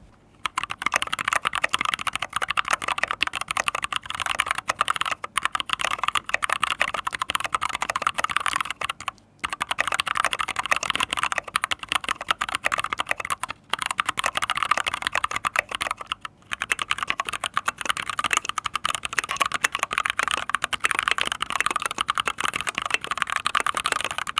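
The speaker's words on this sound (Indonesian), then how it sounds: "Gue juga ada typing test untuk casing yang aluminium dan resin" Continuous rapid typing on a budget Daxa M61 barebone mechanical keyboard with aluminium and resin cases, foam and identical switches and keycaps, a dense close clatter of keystrokes with a few brief pauses.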